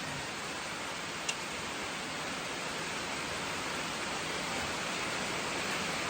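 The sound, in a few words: light rain falling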